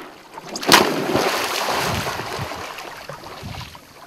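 Someone tumbling off a stand-up paddle board into the water, a sharp splash followed by a broad wash of churning water that slowly fades.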